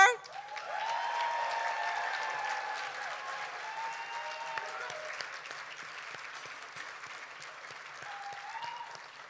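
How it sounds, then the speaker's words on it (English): Applause for North Star rises at an award ceremony, a moderate, somewhat distant clatter of many hands that thins over several seconds, with cheering voices and whoops riding over it. "So can we get a round of applause for North Star?"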